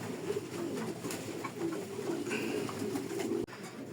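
Racing and breeding pigeons coo in a steady stream of soft, low, throaty calls that overlap continuously, close by, with no talking.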